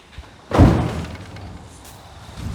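A giant homemade vortex smoke ring cannon, powered by car burnouts, fires a single deep, heavy whump of air. The close blast is followed by a fading rush.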